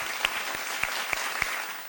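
A studio audience at a Ramazan quiz show claps loudly and steadily, with a few sharper claps standing out from the dense applause.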